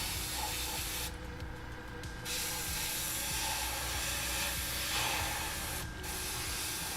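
A dark base coat of paint is sprayed onto a 3D-printed Xenoborg figure's body as a continuous close airy hiss. Brief breaks and shifts in the spray come over a constant steady background noise.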